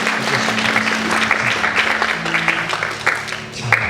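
A church youth-group gathering breaks into sustained applause of thanks, dense clapping that carries on for several seconds at a steady level, with a low hum and some voices mixed underneath.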